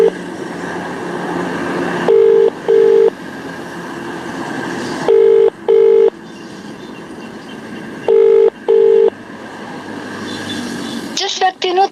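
An outgoing phone call rings unanswered, with three pairs of ring tones spaced evenly apart over a background of talk, ending in a brief recorded message.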